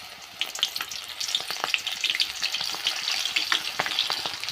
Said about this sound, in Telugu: ఇదిగో నూనె కూడా వేడెక్కిపోయింది. ఇప్పుడు పకోడా వేసేసుకున్నాను.